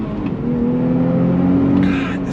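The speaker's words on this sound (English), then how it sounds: "the sound of that freaking engine" A 2025 Nissan Z Performance twin-turbo sports car engine accelerating on throttle, a loud, steady rising drone heard from inside the car, with a brief higher whoosh near the end.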